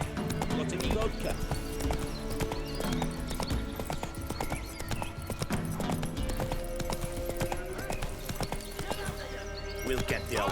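Horse hooves clip-clop steadily in The Witcher 3 video game, a continuous trotting rhythm heard beneath game music and spoken dialogue.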